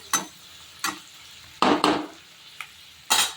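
Chopped onion dropped into hot oil with mustard seeds and cumin while making poha, giving bursts of loud spitting sizzle and spoon scrapes in a pan, separated by quieter gaps.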